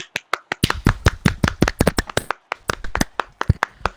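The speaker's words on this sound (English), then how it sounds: "Can we have a round of applause for Slytherin Me 9228, please?" A quick series of sharp, close hand claps in an uneven rhythm marks applause for a driver's good lap in an online racing league, with no speech.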